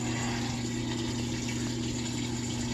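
A GE washing machine drains after a repair, giving a steady pump hum with a rushing flow of water, continuous and fairly close for a few seconds, with no talking.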